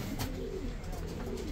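A pigeon held in the hand gives soft, low cooing, a faint close murmur lasting just over a second.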